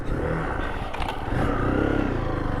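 A Zontes 350T motorcycle is ridden off-road, its engine droning loudly and close with a brief clatter partway through.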